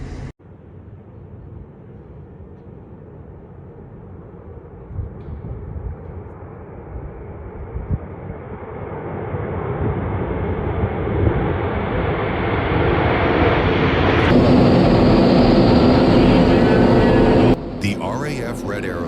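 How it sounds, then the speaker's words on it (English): A small plane engine drones steadily and grows louder as it draws nearer, ending in abrupt broadband noise, with voices mixed in. "An American pilot escapes after his small plane crashes due to lack of fuel."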